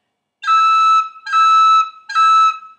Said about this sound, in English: So here's how you do a high E cut.